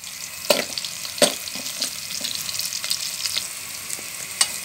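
Onions sautéing in hot cooking oil for a Filipino balbacoa stew, a steady close sizzle with occasional sharp crackles and stirring clatter, no talk.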